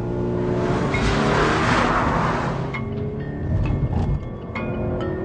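A car driven hard at the limit around a race track with a corkscrew, engine roaring loudly and close, shifting pitch through corners with light tire squeal, no voices.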